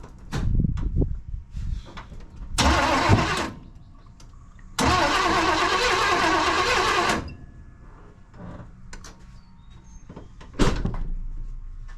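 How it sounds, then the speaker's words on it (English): 1992 Chevy C1500 small-block V8 with throttle-body injection cranking on a first start attempt after an intake manifold swap: two bursts of starter cranking, a short one then a longer one, with quiet gaps and clunks between. "After doing all this work, I got to change the oil because there's probably some nasty stuff that actually made it to the oil pan. All right, actual first start."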